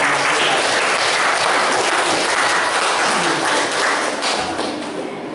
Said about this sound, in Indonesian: Tepuk tangan dong untuk tim